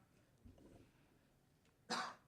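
A single sharp, loud cough bursts out near the end after a quieter stretch with a brief muffled sound earlier.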